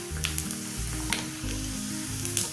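Coconut pieces fry in a pan until brown for Kerala parippu pradhaman, giving a steady, close sizzle with a few light stirring scrapes and no voices.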